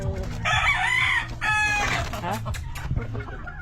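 A labuyo jungle fowl rooster crowing close by, one short strained crow followed by faint clucking, with quiet talk in the background.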